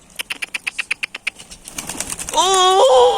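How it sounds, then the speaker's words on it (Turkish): Attacking seagulls beat their wings close by in a quick, even run of flaps. Loud, wavering gull cries follow and overlap with more fluttering. "Abi martı gene saldırıyor"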